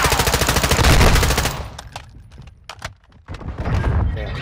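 Rapid automatic gunfire from Call of Duty: Modern Warfare II in a Search and Destroy match, a loud dense burst for about a second and a half, then scattered single shots and thuds.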